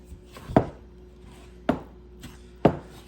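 A spoon works sourdough focaccia dough in a bowl, making three separate soft thuds about a second apart, close and without talking.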